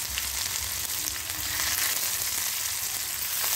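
Chopped onion fries with cumin, mustard seeds and curry leaves in hot oil, giving a loud, steady, close sizzle that hisses without a break and has no voices over it.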